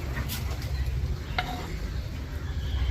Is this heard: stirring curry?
yes